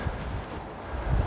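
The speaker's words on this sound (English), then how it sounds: "Wow, windy, I hope you can hear me" Rough, blustery wind buffeting the microphone, with low rumbling gusts rising at the start and end.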